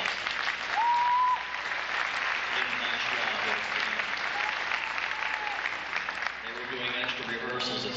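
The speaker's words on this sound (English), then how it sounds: "Please give them a round of applause." Audience at a high school band Christmas concert applauding, a steady wash of clapping from a sizable crowd that carries on for several seconds with faint voices mixed in.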